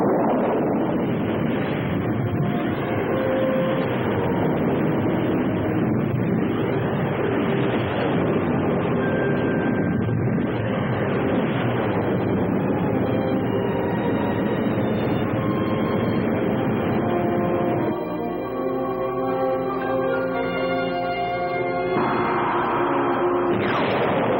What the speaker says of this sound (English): Engines at maximum speed.